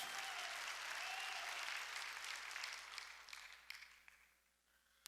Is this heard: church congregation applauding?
yes